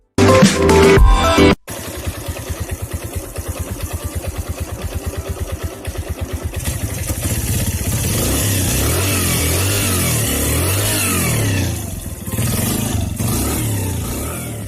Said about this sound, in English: Now let's turn the engine on and raise the accelerator.